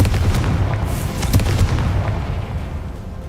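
A fire spell explosion in the video game Hogwarts Legacy: a loud, sustained booming burst with crackling debris and rumble, filling the whole stretch with no talking.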